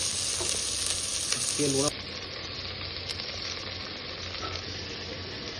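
Onions frying in hot oil, a steady bright sizzle that drops slightly in level partway through and carries on, with a brief spoken word over it.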